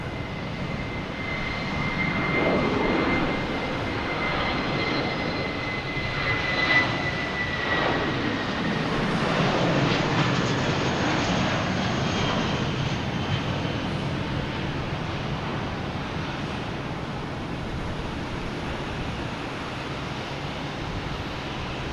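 Fixed-wing airliner landing at Boston Logan Airport, a broad sustained engine roar and rushing noise that holds steady and loud for the whole stretch, swelling slightly midway, with no voices.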